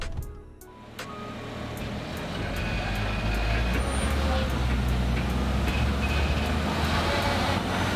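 A Lexus LX 570 or BMW X7 SUV engine revving and pulling as it climbs onto the third step of a house staircase, a loud, sustained drone building after a brief bump and holding steady.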